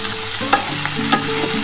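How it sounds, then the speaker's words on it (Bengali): Potatoes fry with turmeric and salt in a pan, giving a steady close sizzle with a couple of brief stirring scrapes. "এটা ভালো করে যে আলুর সাথে হলুদ আর নুনটা ভালো করে ভেজে নিতে হবে।"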